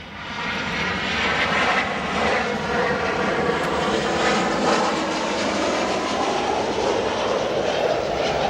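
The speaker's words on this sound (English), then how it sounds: "We'll go to an arriving 737 now." An American Airlines Boeing 737 arriving at Chicago O'Hare roars steadily overhead, a loud, sustained jet rumble with rushing whine, continuous throughout without voices.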